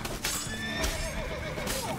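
Horse whinnying and neighing in The Witcher 3, with a few light hoof clops mixed in, loud and close over the game's ambient background.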